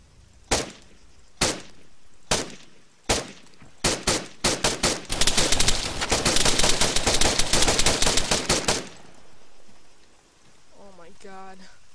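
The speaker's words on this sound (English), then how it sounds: "God, I missed so many shots." Sharp single shots from the video game Arma 3, spaced out at first, then quickening into a dense, sustained run of rapid fire that cuts off abruptly, leaving faint background noise.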